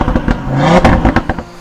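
An Audi 8V RS3's turbocharged five-cylinder engine, fitted with an IE cast downpipe, revs hard with a deep, raspy roar and crackles, loud and close in a short burst.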